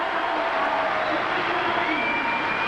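Arena crowd at a 1983 women's gymnastics world championship all-around, a steady broad wash of cheering and murmur from many spectators, with a faint sustained tone running through.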